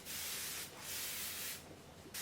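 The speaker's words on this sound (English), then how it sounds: "I'm gonna go back in with my Morphe Life Proof spray just to melt all the powders together." Morphe Life Proof setting spray is misted onto a face in repeated close, breathy hissing bursts, about three or four pumps in quick succession, heard alone without talking.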